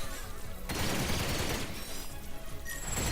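A turret firing in the Ratchet & Clank video game, rapid bursts of gunfire in two loud volleys separated by a short pause, with no voices.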